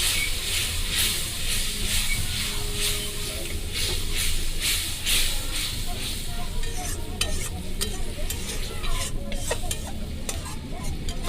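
Meat with spice paste sizzles loudly in a pan as water is added and stirred, a continuous close hiss with scraping strokes of the spoon.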